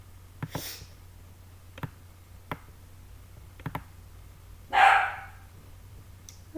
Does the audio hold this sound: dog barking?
yes